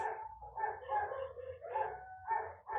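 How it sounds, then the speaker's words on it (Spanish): Several dogs bark and yelp in the background in a ragged, overlapping chorus. The sound is distant and continuous, with no talking over it. "Si escucha ahí al fondo los perritos latir"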